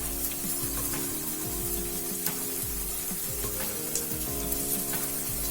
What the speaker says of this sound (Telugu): ఇది కొంచెం గోల్డెన్ బ్రౌన్ కలర్ వచ్చే వరకు వేయించుకుందాం.